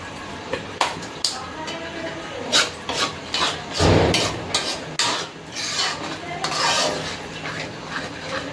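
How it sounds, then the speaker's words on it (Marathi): Dried fenugreek leaves being crushed and rubbed onto a hot griddle with oil while cooking hotel-style pav bhaji: soft scraping and rasping with scattered light metallic clinks, fairly quiet, with kitchen background noise. "1 चमचा कस्तुरी मेथी तवावरती चोळून घ्यायची"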